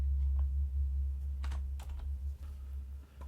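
Text is typed on a computer keyboard, giving scattered, light key clicks over a steady low electrical hum.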